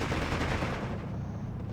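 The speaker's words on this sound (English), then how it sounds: "there's these mortars, they're back again" Mortar fire in the strategy game Steel Division 2, a dense, continuous burst of rapid overlapping blasts and crackling impacts at steady loudness for under two seconds, with no talk over it.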